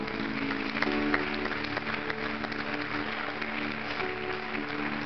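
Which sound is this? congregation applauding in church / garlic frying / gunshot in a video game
congregation applauding in church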